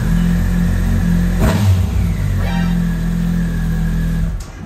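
A motorcycle engine idles with a steady low hum, then revs up briefly in a sharp surge and settles back, close by.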